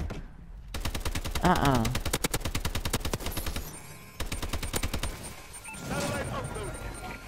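Rapid automatic gunfire in Call of Duty Advanced Warfare multiplayer, with dense bursts of shots running through most of the stretch, loud and close, while players talk over it.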